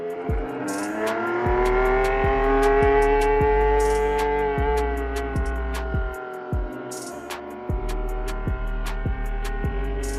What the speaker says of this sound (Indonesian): impresi dari suara mesin RBPT cukup garang ketika keluar pit